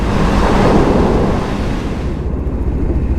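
Strong wind roars steadily across the microphone while cycling outdoors in cold Scottish weather, a loud, continuous buffeting rush that eases slightly toward the end.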